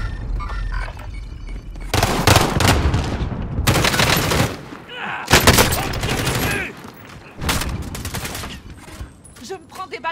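Enemy gunfire in Call of Duty: Warzone comes as several loud, dense bursts of rapid shots separated by short pauses, close and harsh, with voices at times.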